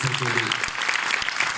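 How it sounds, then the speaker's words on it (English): Lecture audience clapping for Mate Rimac, CEO of Rimac, as he is introduced; a short burst of dense applause runs under a voice. "big round of applause, Mate Rimac, CEO of Rimac"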